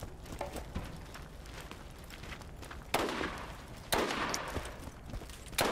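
Sniper rifle fire in Borderlands, with a couple of loud sharp shots cracking out at spaced intervals over busy game noise and scattered clatter.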